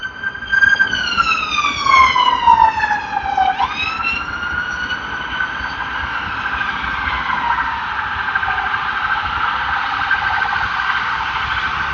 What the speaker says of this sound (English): if you can hear me over those sirens